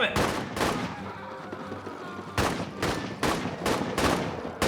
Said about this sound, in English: They're shooting us with all their guns.